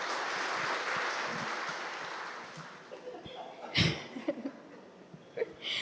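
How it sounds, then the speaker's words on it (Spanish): Audience applause at a church gathering, a broad wash of clapping that fades out over the first few seconds, followed by scattered laughter and breathy sounds. "¿Por qué no los recibimos con un fuerte aplauso a ellos?"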